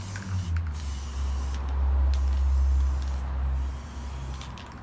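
Krylon Fusion All-in-One matte white spray paint hisses from the can in several close, loud bursts separated by short pauses.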